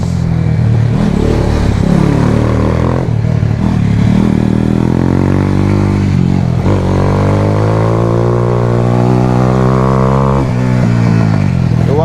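A motorcycle ridden fast along curving hill roads, its engine loud and close throughout, revving up and down through gear changes with rising harmonic sweeps as it accelerates out of bends.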